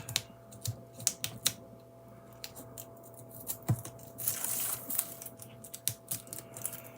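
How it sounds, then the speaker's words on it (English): Foam craft tape is torn by hand at close range, giving faint, irregular crackling ticks and a short scratchy rip partway through, with no talk. "This is the disadvantage of tearing your foam tape."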